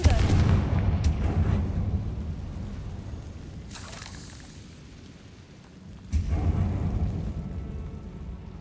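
A blasting-spell explosion in the game Hogwarts Legacy erupts loudly, with a booming crack near the start and a second blast a few seconds later, each trailing off into rumbling noise.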